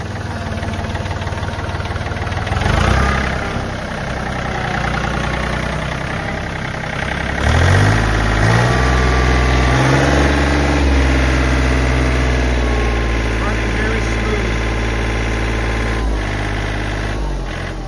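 A John Deere 3320 hydrostatic compact tractor idles at an auction in Ontario, a steady low diesel chug that rises briefly in revs twice before settling back to a close, even idle.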